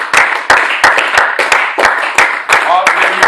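A church congregation claps in a steady rhythmic beat, loud and close, with shouted praise and voices mixed through the clapping during a worship service.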